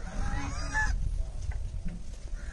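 Geese honk in short, fairly close calls over a steady outdoor background, with a louder burst of honking near the start.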